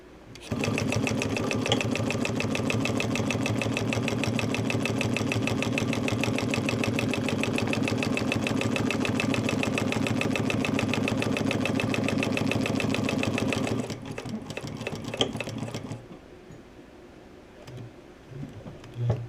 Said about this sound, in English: That's actually a really nice stitch in the vinyl.